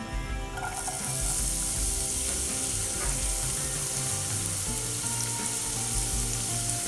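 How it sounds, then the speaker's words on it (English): Chopped onion frying in a couple of tablespoons of oil for cabbage roll stuffing, a loud continuous sizzle with a brief splash of oil at the start and an even crackle throughout, nobody talking. "we're gonna put a couple of tablespoon of oil, little bit of onion"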